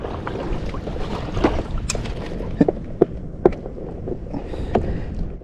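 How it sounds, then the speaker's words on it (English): An inflatable boat scrapes over oysters: soft knocking and scraping taps against the hull over lapping water, a few distinct thuds spaced irregularly, close by with light wind noise. "That's the inflatable touching the oyster."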